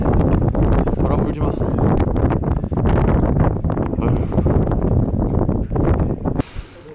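Strong wind gusting steadily across a microphone outdoors at a freshwater crucible carp fishing spot, a loud continuous roaring buffet that drops away abruptly at the end.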